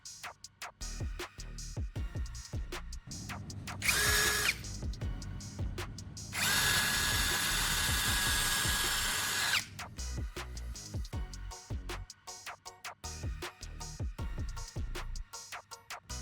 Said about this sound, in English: I'll mark the center and drill a hole straight through.